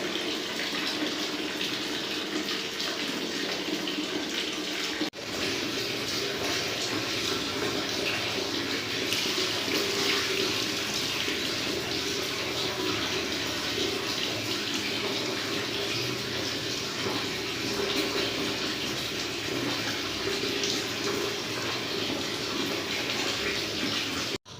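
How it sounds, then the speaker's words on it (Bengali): Water runs steadily as a pet dog named Mickey is bathed, a continuous close gush at constant loudness with a brief break near the start and a cut at the end, no talking. "ভালো করে স্নানটা করিয়ে দেবো না?"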